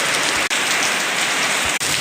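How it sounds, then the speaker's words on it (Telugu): Heavy rain pours down in a dense, steady, loud hiss of drops striking surfaces, continuous and close with no voices. "వాన అయితే బాగా పడ్డది"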